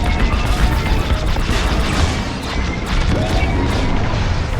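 Dense, continuous barrage of blaster shots and explosions in Star Wars Squadrons space combat, loud and chaotic with overlapping crashes and booms and no break.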